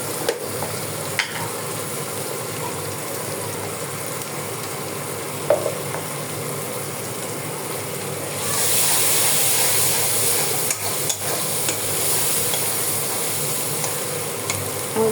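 Chili powder going into a pan of sizzling spiced oil before fish is added for a fish bhuna, a steady close sizzle that swells into a louder hiss partway through, with occasional light scrapes and no talking.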